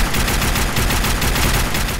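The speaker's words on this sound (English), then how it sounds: "Sounds kind of like a shotgun" A modded gun fires in a rapid, dense burst in the video game Fallout 4, loud and close, with sharp blasts packed together for the whole moment and no voices.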